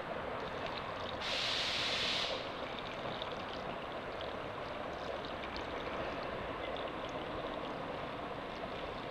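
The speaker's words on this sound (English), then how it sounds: "everything's draining nicely towards the drain hole" Water runs and drains steadily through the repaired cowl of a 1986 Chevrolet Camaro during a leak test, a continuous close wash with a brief louder hissing surge early on.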